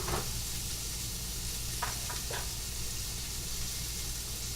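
Meat sears in hot oil in a pan with a soft, continuous sizzling hiss under a low steady hum, broken by a few brief clicks and taps near the middle.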